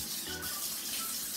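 Water runs steadily from a kitchen sink tap while a cup is being washed, a continuous close hiss and splash with no talk over it.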